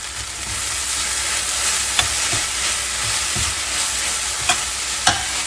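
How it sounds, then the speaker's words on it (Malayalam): Sweet potato leaves fry in a pan with a constant hissing sizzle while a utensil stirs them, adding a few sharp scrapes and clicks, the loudest near the end. "1 മിനിറ്റായി നമുക്കിതൊന്ന് ഇളക്കിയിട്ട് കൊടുക്കാം."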